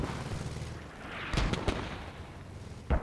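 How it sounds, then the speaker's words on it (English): Mortar shells land in the tactical shooter game Squad as a few deep, booming blasts over a rumbling battlefield background: a cluster of sharp impacts near the middle and one more toward the end, moderately distant. "Those mortars are dropping."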